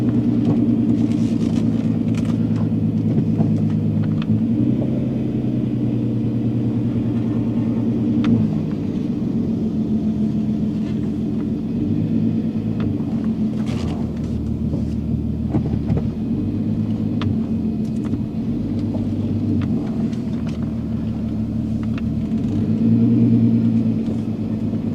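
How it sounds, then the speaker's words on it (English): VW Golf R32 on a first test drive after a wreck rebuild, steady engine drone and road rumble heard from inside the car, continuous and fairly loud with slight rises and falls in revs. "time for a first test drive. See how this thing drives."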